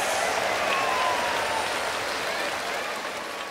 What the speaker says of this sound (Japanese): ものすごい歓声で今迎え入れられました。